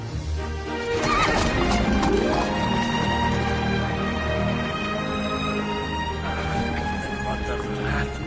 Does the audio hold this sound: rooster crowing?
no